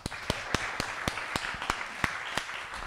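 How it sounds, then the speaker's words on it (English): Sparse applause at a members' meetup, with sharp individual claps ringing out at a steady beat over a soft bed of room noise. "Round of applause."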